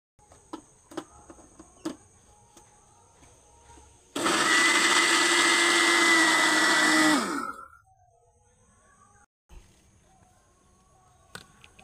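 A blender grinds raw mango with water into a paste in one loud, steady burst of about three seconds, bracketed by faint clicks and handling knocks before and after.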